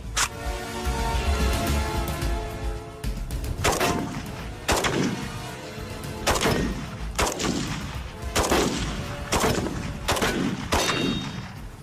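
AK rifle gunfire: a series of about ten loud, sharp shots at uneven intervals, each with a ringing, echoing tail, with no voices.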